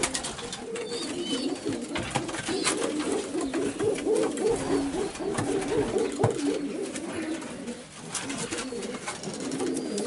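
Pigeons coo steadily in a racing and breeding pigeon loft in Prahova, Romania, a dense overlapping chorus of soft rolling calls continuing close by throughout, with no talking.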